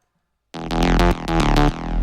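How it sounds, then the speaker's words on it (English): A reversed-sounding reverb effect automated in FL Studio on a mid-tempo electronic track, swelling in after silence with repeated pulsing chords and bright transients, loud and alone without any voice. "it sounds like it's reversing"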